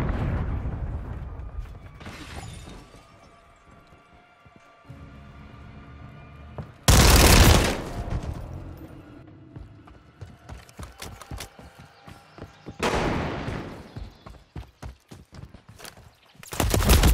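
Gunfire in the video game Call of Duty MW3 on the Estate map: loud bursts of shots and clattering mechanical reloads, separated by quieter stretches of footsteps and rustling.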